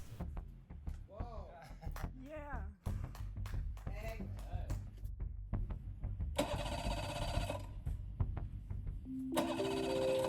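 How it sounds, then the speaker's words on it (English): Voices talk nearby, then a motor cranks and catches, settling into a steady, rumbling idle that continues to the end. "Alright, the engine is running"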